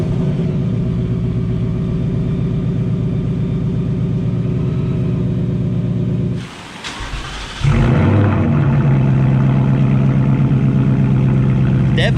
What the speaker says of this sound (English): we're gonna start it up and let it warm up